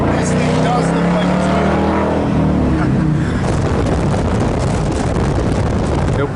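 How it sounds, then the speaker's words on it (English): A completely restored 1966 Ford Mustang on a low-mileage replacement motor runs steadily and loudly, its engine drone mixed with wind rush, with voices talking over it. "We got a low mileage replacement motor. She's running like a top."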